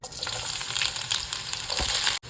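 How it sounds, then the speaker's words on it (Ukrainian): Onion and carrot sizzle steadily in hot oil in a frying pan, a dense crackling hiss throughout with brief stirring sounds, ending abruptly. "ставимо сковорідку, наливаємо олійку, розігріваємо та кидаємо цибульку та морковку"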